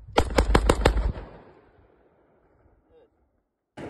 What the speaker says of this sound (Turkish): Şimdi seri bir atış denemesi yapıyorum.